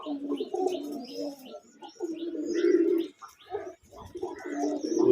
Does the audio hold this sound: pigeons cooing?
yes